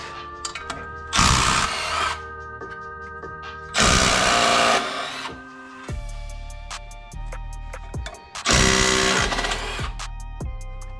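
Impact wrench zipping off flywheel bolts on a 9th-gen Honda Civic Si in a garage, three loud, separate bursts of about a second each, with gaps of ratcheting clicks and mechanical clatter between them.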